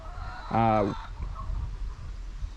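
Chickens in a backyard chicken run let out one loud, drawn-out fowl call at close range, followed by lower scratching and rustling while someone talks nearby.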